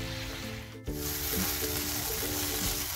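Chicken cooks down in a pan with steady broadband sizzling that pauses briefly near the start, joined by faint stirring scrapes and a low hum throughout.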